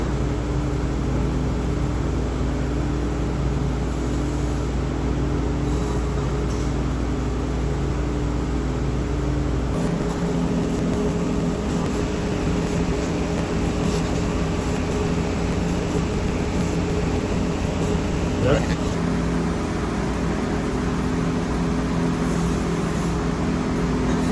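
A 4000-watt CO2 laser cutter works on steel telescope pier parts, giving a steady, continuous industrial hum and whine with faint shifts and no talking.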